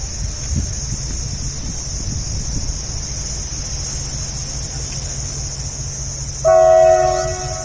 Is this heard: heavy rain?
no